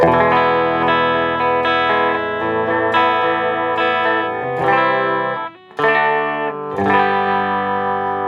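A clean electric guitar with no effects, not even reverb, rings out sustained chords and single notes through an amp, played alone with a brief pause near the end.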